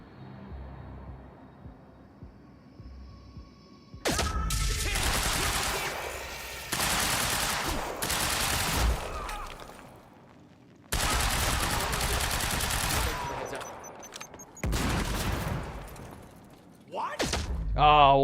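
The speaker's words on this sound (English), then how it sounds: "Let's use the assault rifle this time." Assault rifle fire in the video game Quantum Break on hard difficulty, several loud bursts of automatic shots separated by short quiet gaps, with a voice speaking in places.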